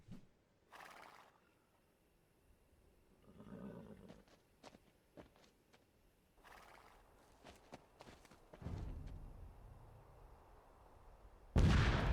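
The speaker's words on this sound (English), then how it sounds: "I've never been so happy to hear an explosion before." Horses whinny and hooves clop amid distant battle noise in the Age of Empires 2 video game, then a sudden loud explosion bursts out at the very end.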